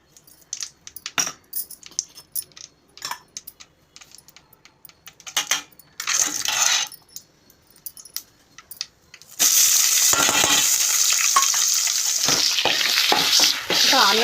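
Oil heating in a pan ahead of the onions, first with scattered clinks and stirring taps, then a loud, steady hiss of frying that carries on to the end.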